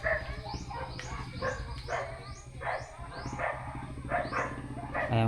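A dog barks repeatedly in sharp, rhythmic bursts at moderate distance, with some yipping and whimper-like tones over a steady low background hum.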